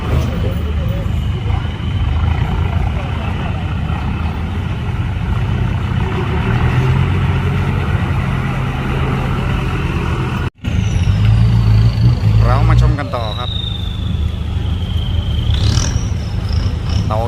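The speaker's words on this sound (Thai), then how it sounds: "มีแต่คัน ใหญ่ๆ ทั้งนั้นเลย แถว นี้ครับ เป็นรถหกล้อ ครับ" Large six-wheel dump trucks hauling soil, stone and sand to a temple in Chanthaburi rumble steadily nearby, with engine drone, an air-brake hiss and a rising whine, while someone talks over them.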